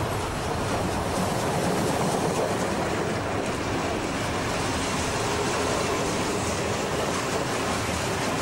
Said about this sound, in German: Der schwere Zug müht sich durch das Stadtgebiet von Zeitz.